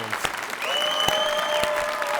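Audience applause for champions at a television studio show, loud sustained clapping with bright ringing tones layered on top, filling the whole stretch without a break.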